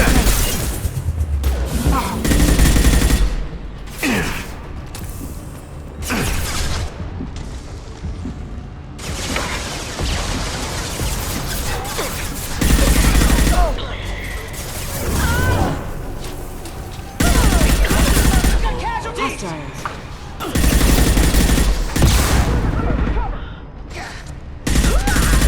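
Gunfire in the Mass Effect 2 video game: repeated loud bursts and volleys of shots crashing in clusters over about 25 seconds, with impacts and mechanical clatter between them and occasional voices mixed in.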